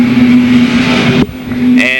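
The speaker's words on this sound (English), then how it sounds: "driving a race car that is very strange to him" Sportsman race car engine on the track at Louisville Motor Speedway in 1991, a loud sustained drone with a brief dip partway through before the roar returns and rises.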